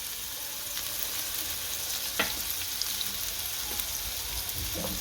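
Garlic frying in hot oil for a green onion and dhokli curry, a steady bright sizzle with small pops and occasional stirring knocks throughout.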